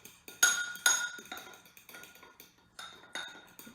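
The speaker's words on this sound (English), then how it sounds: "take my fork and we are going to mix together" A fork clinks and scrapes against a bowl while mixing ingredients for a birthday cake, making a quick series of light, close metallic taps and knocks in an irregular rhythm.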